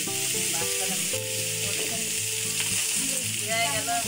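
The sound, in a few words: garlic frying and sizzling in a pan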